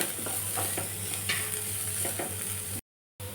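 Vegetables sauté with turmeric powder in hot oil for a mixed rava idli, giving a steady close sizzle with a spoon scraping and stirring through the pan.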